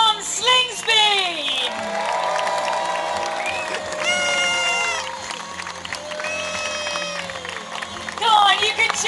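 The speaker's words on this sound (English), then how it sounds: "please give him a huge round of applause" A crowd cheers and applauds loudly for an Australian Olympic gold medalist in men's Laser sailing at a live event, with shouts and high whistles over steady clapping and an announcer's voice on a loudspeaker.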